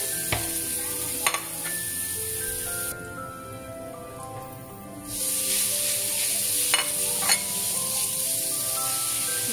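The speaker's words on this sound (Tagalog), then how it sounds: "ilagay na natin yung ating ground beef" Ground beef frying with garlic in olive oil, a steady loud sizzle that briefly drops lower before swelling again, with a few clinks of a utensil against the pan, close up and without talking.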